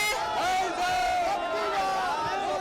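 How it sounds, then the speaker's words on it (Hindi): A dense crowd at a BJP election rally in Madhya Pradesh chants slogans in unison, a loud, continuous swell of many voices rising and falling. "जय जय श्री राम के नारे लग रहे हैं।"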